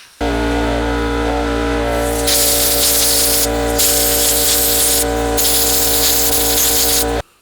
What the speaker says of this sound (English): I'm going to get my air compressor and just blow this out